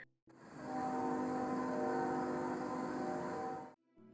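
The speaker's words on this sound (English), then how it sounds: "a train horn echoed across the air" A train horn sounds at night, one long, steady, low chord-like blast holding for over three seconds before cutting off, moderately distant with a faint echo and quiet surroundings.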